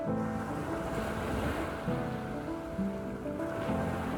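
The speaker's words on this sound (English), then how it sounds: "You can find peace in these crashing waves" Ocean waves crash and wash steadily onto Fort Myers Beach after Hurricane Ian, forming a broad, continuous roar with wind buffeting the microphone and no voices.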